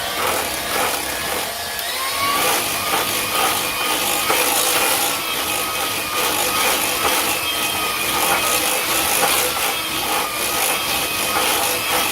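Cake batter for an orange vanilla Coca-Cola cake being whipped, most likely with an electric mixer, giving a steady, loud, high-pitched whirring and scraping that runs without a break and with no talk.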